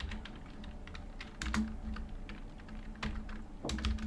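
Fingers type on a computer keyboard while entering a ledger in Tally Prime, a short run of close, uneven key clicks with a few heavier presses over a low steady background hum.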